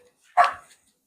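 A small dog lets out a single sharp bark at close range, short and loud, then falls silent.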